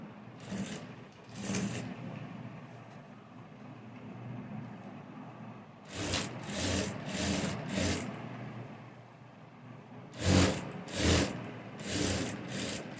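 Sewing machine stitching along the edge of a blouse, heard as three clusters of short, rapid mechanical stitching bursts separated by quieter handling pauses, fairly close and with no talking.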